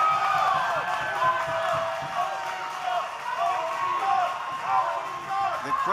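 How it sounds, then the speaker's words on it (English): A wrestling crowd at an OVW TV show chants together, a steady roar of massed voices filling the arena under a commentator's continuous play-by-play. "The crowd chanting OVW"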